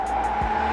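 A Ford Focus RS slides through a track corner in drift mode, a sustained tire squeal holding a steady pitch over engine drone, close and loud for under a second.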